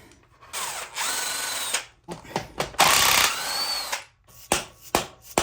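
A power tool removing bolts from a cheap used dirt bike, with several short loud whirring bursts separated by pauses and ratchety clicks.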